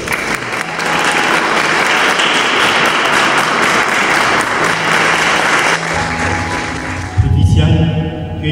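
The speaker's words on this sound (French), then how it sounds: "nous pouvons l'applaudir de tout notre cœur." Church congregation applauding after a baptism at an Easter vigil, a dense, sustained wash of clapping for about seven seconds before it fades into room noise and low sounds.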